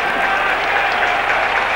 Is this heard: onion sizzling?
no